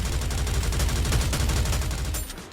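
Rapid cannon bombardment from the NIKKE video game, a dense, continuous barrage of loud booming blasts that fades out near the end, with no talk over it.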